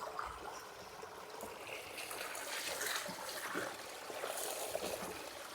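Fresh running water trickles and splashes steadily at a tea estate in Munnar during the monsoon, a continuous close-up babble with no talk.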